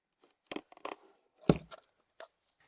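Scissors cutting open a plastic package of 9x19 ammunition, a few sharp snips and crinkly tearing in separate bursts, close and clear, with no talk.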